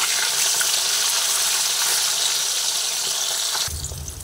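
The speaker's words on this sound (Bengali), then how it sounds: "এই মাছ 3টে ভাজা হয়ে গেলে উল্টে দিলে আবার অন্য মাছগুলো আবার দিয়ে ভেজে নেব।" Pieces of katla fish sizzle steadily in hot oil in a pan, a loud continuous frying hiss that drops to a softer rumble near the end.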